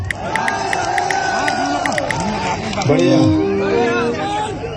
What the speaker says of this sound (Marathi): मोर्चामध्ये लाखोची गर्दी तुफान गर्दी